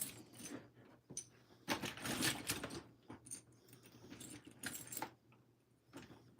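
Hands rummaging through a bin of plastic Lego wheels, close clattering and rattling bursts of small parts knocking together, coming in uneven waves with short pauses.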